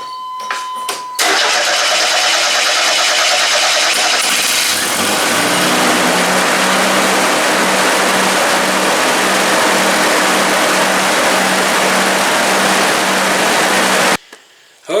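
A square-body S15 pickup engine cranks briefly, catches and roars into a loud, steady idle close by, then cuts off near the end.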